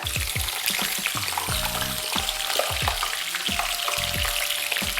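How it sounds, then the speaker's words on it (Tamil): Brinjal (eggplant) pieces fry in hot coconut oil, a dense steady sizzle with repeated low thumps and scraping stirs as the pieces are moved around the pan, loud and close with no talking. "இப்போ ஒன்று இதை போட்டு பொரிச்சு எடுத்துடலாமா கத்திரிக்காயை?"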